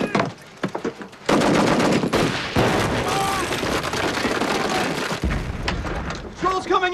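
Machine gun fire in a war film battle, loud bursts of rapid shots and booming blasts that fill most of the stretch, with shouted voices over and between the gunfire.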